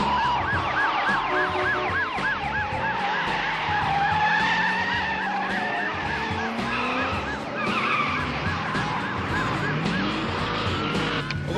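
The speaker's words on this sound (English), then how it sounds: "We are in high-speed pursuit northbound on Cortland Avenue." A movie car chase roars with skidding tires, revving engines and wailing police sirens layered loudly and continuously.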